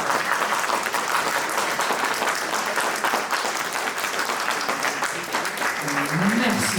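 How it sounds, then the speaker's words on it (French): An audience at a short-film screening applauds to vote, a loud, continuous burst of crowd clapping that stays strong throughout, with a voice faintly rising near the end. "Je vous laisse applaudir."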